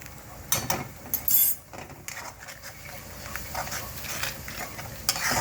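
Mixed vegetables for pav bhaji being stirred and sautéed in a pan, with uneven scraping strokes, light clinks of a spoon against metal, and a low sizzle, close and fairly quiet.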